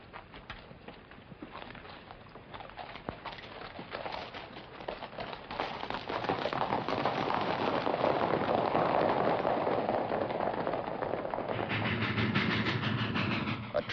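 A train rolls along the rails in an old Western drama, a steady broadband rumble that swells louder and fuller as it goes, with no talking over it.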